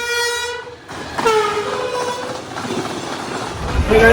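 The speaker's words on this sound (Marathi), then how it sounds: "आम्ही निघाले शिवाजीनगरची ट्रेन भेटलेली आहे आम्हाला" A Shivajinagar-bound passenger train sounds its horn in a long, loud, close blast, then rumbles along with rising clatter from the wheels and cars.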